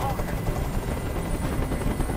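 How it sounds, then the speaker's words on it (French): A dense, steady roar of a helicopter in Detroit: Become Human fills the scene, loud and close with a rapid rotor thrum, while voices talk over it. "Je peux plus supporter ce bruit. Fais dégager cet hélicoptère, maintenant."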